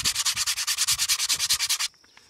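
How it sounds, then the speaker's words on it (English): Cut edges of a Star Wars Stormtrooper 3D wall art piece sanded by hand, about fifteen quick rhythmic back-and-forth rasping strokes close up, then stopping abruptly. "I also like to give a quick sand to the surface that will ultimately be painted."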